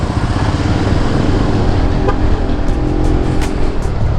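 Jakarta traffic jam with cars and motorcycles: a loud, dense, continuous rumble of idling and revving engines close by, steady throughout with no speech.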